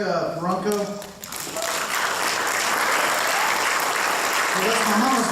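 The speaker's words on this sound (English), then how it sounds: "That's an extra clap." Crowd applause at a senior class awards ceremony, dense steady clapping from many hands that swells after a brief voice at the start and holds loud and continuous to the end.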